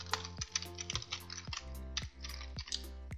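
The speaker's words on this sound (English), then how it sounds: "So I just have to type that name." Someone types a file name on a computer keyboard, a quick near run of crisp key clicks in uneven rhythm, alone without talk.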